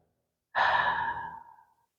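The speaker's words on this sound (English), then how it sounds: "Breathing in deeply." One deep, slow breath during a guided grounding exercise, a close, breathy exhale that swells quickly and fades out over about a second, alone in quiet.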